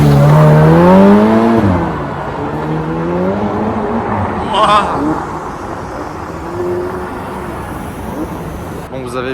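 A Ferrari F8 Spider at the Tour Auto 2020 accelerates hard past on the road, its engine rising loudly near the start and fading as it moves away, with someone talking over much of it.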